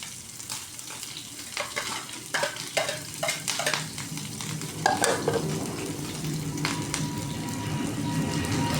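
Chili peppers stir-fried in a hot pan give a steady close sizzle, broken by repeated sharp scrapes and clatters as they are stirred and tossed.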